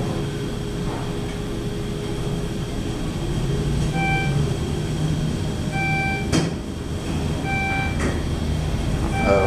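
Schindler traction elevator at the Mayo Clinic employee ramp in Rochester, Minnesota, descending with a steady low mechanical rumble, a few faint repeated beeping tones and a single sharp bonk partway through.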